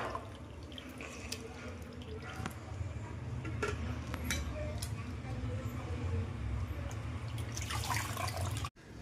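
Water drips and trickles as boiled greens are squeezed by hand, giving scattered soft splashes and drops over a low steady background hum, ending with a brief knock.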